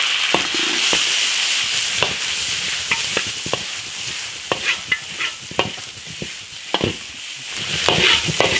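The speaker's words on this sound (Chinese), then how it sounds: "下石头爆炒，" Boiled stones are stir-fried in a hot iron wok with oil, garlic and dried chilies, giving a constant loud sizzle broken by repeated sharp scrapes and clacks of the spatula and rattling stones.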